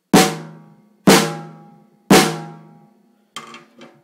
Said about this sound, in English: This is what my snare sounds without Moongel.